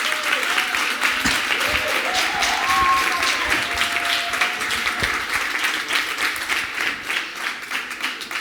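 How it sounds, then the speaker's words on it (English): Audience applause for a team at a kids' competition on a playground stage, a sustained, fairly loud crowd of clapping hands lasting several seconds, with faint background tones and no talk. "Big applause for the team, please."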